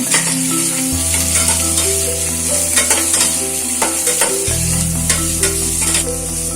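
Onion, ginger and green chili sauté in a pan with a steady sizzle and repeated spatula scrapes, while a low hum sits underneath and no one speaks.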